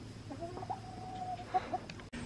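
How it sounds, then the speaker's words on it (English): Chickens cluck softly in or beside a backyard coop, a few drawn-out murmuring calls and short clucks, fairly close and quiet over low background noise, with no talk. "all the chickens are hiding either right beside"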